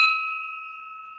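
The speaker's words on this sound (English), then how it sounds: "I guess I've got my bell here if you can see it, so I'm just going to ring that first." A hand bell rung once to open a Rotary Club meeting, a single clear ring whose bright tone rings out and slowly decays across the moment, heard alone without talk.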